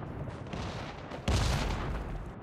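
AK rifle gunfire in the video game Rules of Survival: a loud, sudden burst of shots erupts partway through and keeps rattling over a steady background of game noise.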